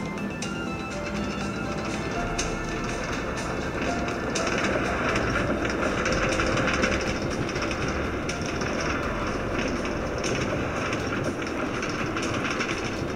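A New York City subway A train bound for Far Rockaway, near Aqueduct, rumbles loudly and continuously from inside the car, with a broad roar and faint rail clatter throughout.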